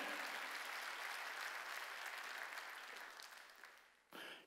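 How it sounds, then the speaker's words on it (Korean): A church congregation at Sunday worship claps together in a steady, full wave of applause that gradually fades, ending with a brief louder burst. "더욱 잘 될 걸 믿으면 박수 치라 이거야"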